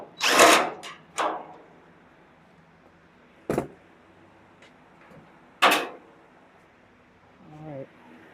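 A power tool works on a front fender bolt of a 1969 Camaro. Four short, sharp whirring bursts are separated by quiet pauses.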